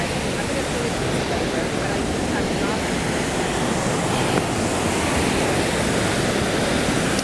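Steady, powerful roar of a waterfall in Slovenia, a dense broadband wash that stays constant throughout with no pauses.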